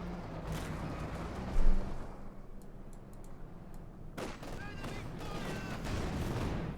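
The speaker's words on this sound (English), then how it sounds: "Dodging fire from the Panther 4. T-35 moving westwards. Machine firing up with the field gun." Panther IV tank and a field gun firing in the World War II strategy game Company of Heroes 2, bursts of gunfire and sharp impacts over steady battle noise, with a voice talking throughout.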